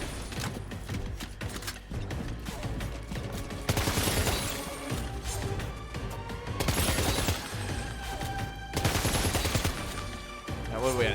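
Gunfire in Death Stranding 2, a dense, continuous clatter of rapid shots mixed with mechanical noise and game music, loud and sustained, swelling in intensity at a few points.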